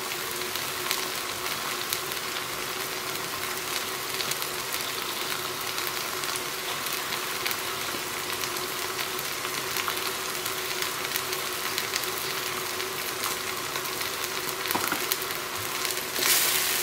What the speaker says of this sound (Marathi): जिंजर गार्लिक पेस्ट बरी फ्राय जाली अनियन्स आनी टोमॅटोन.